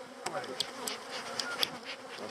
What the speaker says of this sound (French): t'as quasiment toute la ruche qui est sortie pour te sauter à la gueule